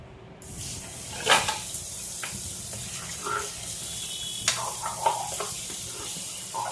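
Water poured into a hot frying pan hisses and sputters in a continuous sizzle, with a few sharper spurts and crackles over a low background rumble.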